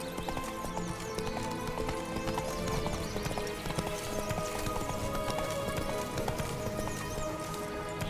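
Roach, Geralt's horse in The Witcher 3: Blood and Wine, gallops with rapid rhythmic hoofbeats that stay steady and close, over a continuous game soundscape.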